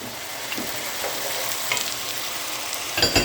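Celery and carrots hit a hot pan for hamburger soup, giving a steady broadband sizzle with soft scraping stirs and a louder clatter near the end, no talking.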